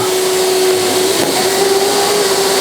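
A Hyundai HYVI10030 wet and dry vacuum running on one motor, sucking up leaves, gives a loud, steady motor whine with a constant airy rush, close by and without talk.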